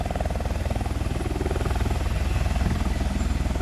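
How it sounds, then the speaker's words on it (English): Helicopter rotor thumping steadily and loudly overhead at a motorcycle-versus-car accident scene, a continuous rapid chop with engine whine and no voices. "It's never a good thing when they request helicopters."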